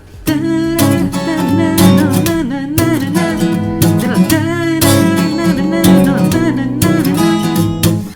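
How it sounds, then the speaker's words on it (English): An electric guitar plays a rhythmic riff of short, chugging muted notes broken by quick ringing hammer-ons, loud and close with no talking. "combining the hammer-on and the palm muting technique, you'll be able to play something like this"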